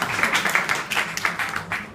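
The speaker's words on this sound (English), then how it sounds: "Let's give him a round of applause." Audience at a hackathon event claps in a short, uneven burst of applause, moderately loud with scattered hand claps and some voices mixed in.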